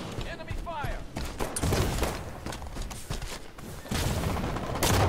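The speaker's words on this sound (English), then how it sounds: "Enemy fire." Enemy gunfire in Halo 5 multiplayer, dense bursts and thumps cracking over continuous game noise and a talking player, with a couple of louder volleys near the end.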